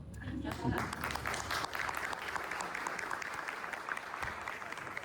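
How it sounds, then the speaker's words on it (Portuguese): Audience applause fills a talk by the CEO of Leveros, steady dense clapping throughout, loud and close, with a brief voice near the start. "Palmas para Tiziano e Vida Deveras."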